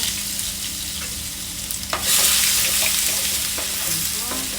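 Garlic and onion sauté in a pan with a steady broadband sizzle that jumps louder about two seconds in as more goes in, with a few scraping stirs and light clinks throughout.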